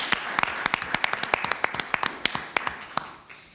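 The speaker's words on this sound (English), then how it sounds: "let's give them a round of applause." A small group at a school board business meeting claps for middle school literacy winners, sharp individual claps standing out in a loose, close rhythm before trailing off, with no talk.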